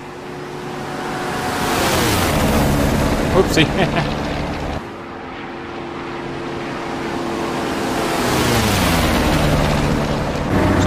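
A warbird's piston aircraft engine in the DCS flight simulator drones steadily and loud, its pitch rising and falling as power changes, with a brief spoken remark over it.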